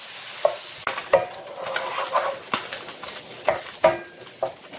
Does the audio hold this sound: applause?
no